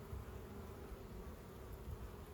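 Honeybees buzz around an open hive during frame inspection, a dense, steady drone of many insects close by with no voices over it.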